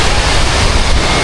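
Strong sea waves pound the shore at a twin-island beach, a loud, dense roar of surf with wind buffeting the microphone, continuous across the short stretch.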